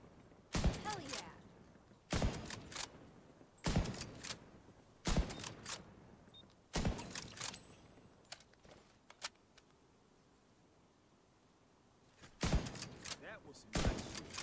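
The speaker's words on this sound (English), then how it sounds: "That was some nice shooting." Gunfire in a shooter video game: loud bursts of shots arrive in clusters every second or two, separated by quieter stretches, with faint background game noise between.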